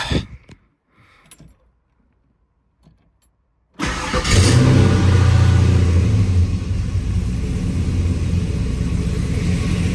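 A classic car sits quiet with a few faint clicks, then its engine cold-starts with a sudden burst, flares in a loud rev and settles into a strong, steady idle rumble close by.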